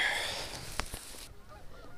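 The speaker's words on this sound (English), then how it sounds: "These geese just came over my head" A few honks from geese passing close overhead during a winter goose hunt on ice, faint against a windy hiss that fades away after a second or so.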